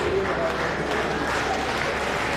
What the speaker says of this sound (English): As you clap